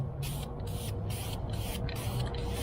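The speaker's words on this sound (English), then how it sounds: "The heat gun" A heat gun blows hot air over JB Weld-coated welds on a damaged DynoMax exhaust from a Dodge RAM 2500, a breathy hiss that surges in regular pulses about twice a second, with no voices.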